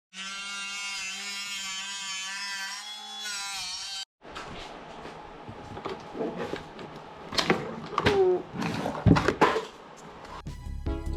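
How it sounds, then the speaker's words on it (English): A power driver sinks self-tapping screws to mount a CB radio bracket inside the lower console cubby of a manual-transmission Honda CR-V. A steady high motor whine runs for the first few seconds, followed by scattered clicks, rattles and thuds from handling the bracket. "I'm using self-tapping screws to install the bracket that came with the CB radio"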